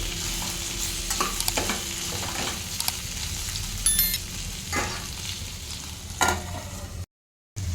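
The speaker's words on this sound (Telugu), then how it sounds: "దీనిపైన మూత పెట్టేసేసుకొని కొంచెం సేపు ఫ్రై చేసుకోవాలి" Ivy gourd (dondakaya) frying in a pan, giving a steady hiss and sizzle with occasional soft stirring taps. It runs unbroken until a brief silent gap near the end, with no voices.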